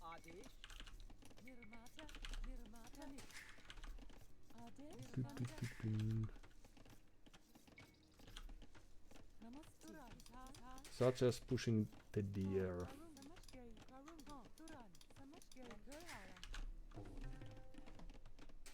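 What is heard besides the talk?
computer keyboard and mouse clicking while playing Age of Empires II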